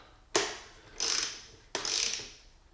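Wrench snugging the front fork bolts on a BMW S1000RR during an Öhlins fork swap: three distinct mechanical ratcheting bursts, each about half a second to a second long, close and fairly loud with brief pauses between.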